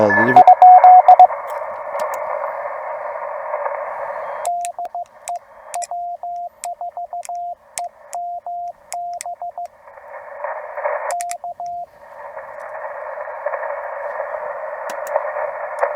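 Morse code CW comes from a Penntek TR45L skinny-edition radio on 14067 during an outdoor POTA activation: a steady tone breaks into rapid keyed dits and dahs, then a sustained tone returns, loud and clear with no voices.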